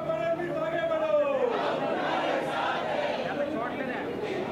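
BJP corporators in the Mumbai municipal chamber chant Modi Modi slogans as a group, a steady loud crowd of rhythmic shouting voices throughout, during the mayor election.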